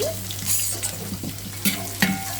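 Small onions (shallots) fry in a pan while being stirred, giving a soft continuous sizzle with light scraping clinks over a low steady hum.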